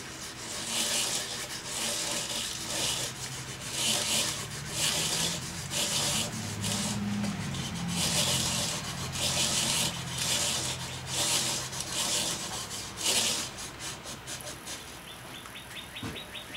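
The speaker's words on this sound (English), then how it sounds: "Ready to wet sand it with 2000 grit" A wood turning coated in sanding sealer is wet sanded with 2000 grit wet/dry sandpaper, producing close, continuous rhythmic rubbing strokes with a soft abrasive hiss.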